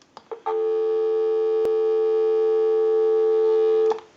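A steady telephone dial tone hums through the line of a restored wooden wall telephone, starting after a few brief clicks and holding unbroken for several seconds before cutting off.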